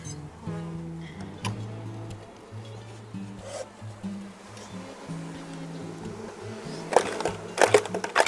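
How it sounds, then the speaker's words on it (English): Honeybees being shaken into a hive during a rescue from an old hive in a gum tree buzz in a shifting drone, close and fairly loud, with scattered knocks and rustles near the end. "And then I'm going to shake these bees in."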